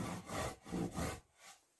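A hand saw rasps through timber in slow, steady back-and-forth strokes while cutting framing for a wooden house, about three full strokes, close by and moderately loud with no talking.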